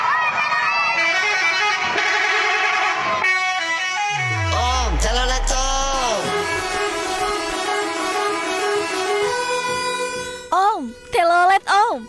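Loud, continuous melodic "telolet" bus horns from buses in northern Java playing tunes, with a descending sweeping tone in the middle and short honks at the end.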